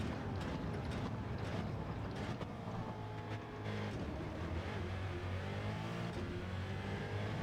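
A Porsche 917 race car in Gran Turismo 7 charging at full throttle around Sardegna Road A, its steady high-revving engine drone loud and constant, with brief shifts in pitch as it accelerates.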